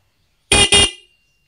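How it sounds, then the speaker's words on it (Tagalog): Stock horn on a vehicle fitted with an aftermarket dual horn and mini driving lights, sounding two short loud honks in quick succession, close by, with a brief ring-out after. "So, sa stock horn muna tayo."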